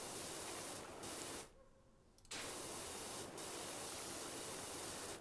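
A pressure washer sprays continuously in PowerWash Simulator, a steady close hiss that stops briefly for about a second before starting again and running on.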